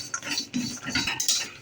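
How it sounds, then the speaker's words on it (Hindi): Cashews being fried and stirred in a pan for a masala sooji carp bait, heard as continuous close scraping and clattering of a utensil against the pan. "हम काजू अब थोड़ा फ्राई कर ले रहे हैं"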